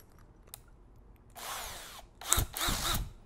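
A Makita 18V cordless drill runs at maximum power in drill mode, two whirring bursts, the second louder with a rising whine and sharp bite into the material, following a quiet pause with a faint click.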